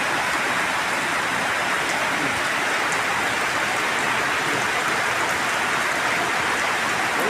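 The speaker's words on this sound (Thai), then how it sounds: "ฝนตก" Steady rain falls as an unbroken, even hiss of drops on surfaces for the whole stretch, with no voices and no pauses.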